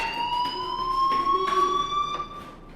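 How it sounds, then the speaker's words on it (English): A loud electronic fire alarm in the video game Life Is Strange sounds continuously with a steady high-pitched tone, rising slightly, then cuts off. "do you hear that fire alarm?"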